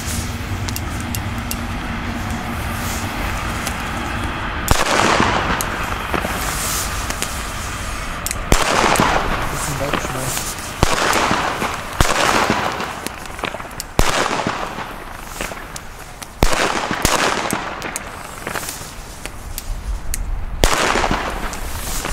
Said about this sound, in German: Jetzt für euch im Test die Funke Böller A. Das sind, ich sag mal, mittelgroße Reibkopfböller